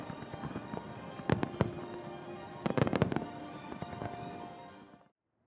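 Nomura Fireworks' star mine display in Ibaraki erupts in loud, crackling bursts, with clustered booms and sizzling crackle over a rumbling background before it cuts off abruptly.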